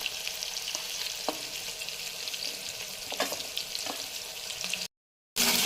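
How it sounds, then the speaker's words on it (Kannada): Ginger garlic paste frying with browned onions in hot oil, a steady close sizzle with a few stirring scrapes, ending in a brief silent gap before the sizzle resumes. "ಉಳ್ಳಾಗಡ್ಡಿ ಫ್ರೈ ಆದಮೇಲೆ ನೋಡ್ರಿ ಶುಂಠಿ ಬೆಳ್ಳುಳ್ಳಿ ಪೇಸ್ಟ್ ಹಾಕೊಳತ್ತೀನಿ ನೋಡ್ರಿ."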